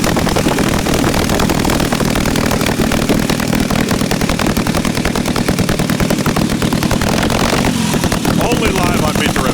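The engine of a vintage 1916 Harley-Davidson motorcycle runs loud and close with a rough, continuous chugging throb, while people talk over it.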